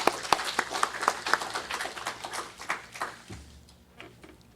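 A church congregation claps to welcome a speaker giving a testimony, with scattered distinct handclaps that grow sparse and die away after a few seconds.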